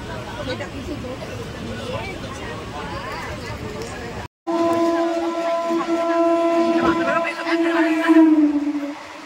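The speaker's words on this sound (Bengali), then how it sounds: "আমাদের ট্রেন হাওড়া থেকে ছাড়লো ঠিক 8:55" The Kulik Express pulls out of busy Howrah station, with platform crowd chatter giving way after a brief cut to a sustained, loud train horn and rolling rail noise.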